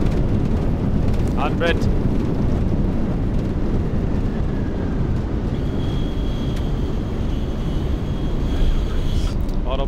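A McDonnell Douglas MD-11 lands with its spoilers deployed at New York JFK, heard from the passenger cabin as a loud, constant roar and rumble of the airframe, with a brief synthetic callout over it.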